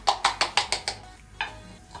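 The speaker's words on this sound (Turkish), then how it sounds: "Şimdi doğradıklarımı tavama boşaltıyorum." Chopped onions tipped into a frying pan, heard as a quick series of six sharp tapping clatters followed by a couple of softer knocks, close and clear with no talking.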